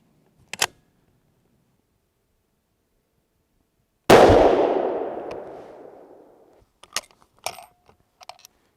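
A 7.5x55 Swiss rifle firing Hornady SST ammunition lets off one sharp, loud shot that rings out and decays over about two seconds outdoors, with a few faint clicks and handling noises before and after.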